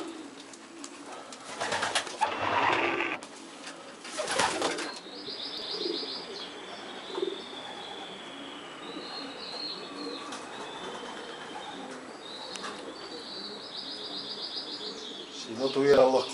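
Racing pigeons at a loft, with soft cooing, chirps and bursts of wing flapping, close and moderately loud, rising and falling against a steady background hum.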